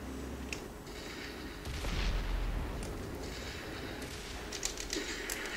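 A heavy tank cannon fires in World of Tanks with a deep boom amid steady game rumble, followed by fainter distant shots and crackles.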